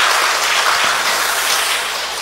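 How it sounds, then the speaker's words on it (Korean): A church congregation claps to welcome members during a Sunday worship service, a dense, bright burst of applause that stays steady and close for about two seconds. "박수로 환영합니다"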